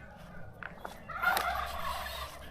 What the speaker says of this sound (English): Turkeys over there, which is pretty crack up.